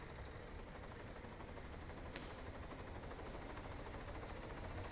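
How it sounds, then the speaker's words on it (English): A steady helicopter drone from the video game Arma 3 hums throughout, rotor thrum blended with engine noise as it tries to land, fairly faint and continuous, with no one talking. "There's also a helicopter trying to land"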